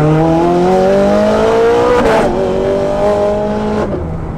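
A Ferrari 430 Scuderia revs hard at night, the engine note climbing steadily, with sharp exhaust pops and crackles as it shifts, loud and close.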